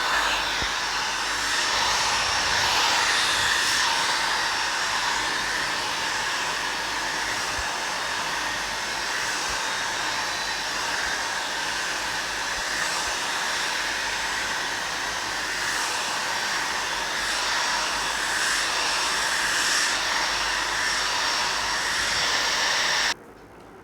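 A hair dryer runs steadily while drying hair, a loud continuous whooshing blow at close range that holds for over twenty seconds before cutting off abruptly at the end.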